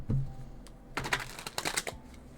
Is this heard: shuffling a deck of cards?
yes